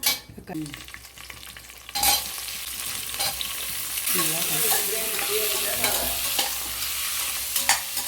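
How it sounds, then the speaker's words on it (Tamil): Chicken pepper gravy sizzles and crackles in a hot pan, loud and close, with the scrape and clatter of stirring throughout. "நல்லா பொரிக்கணும்"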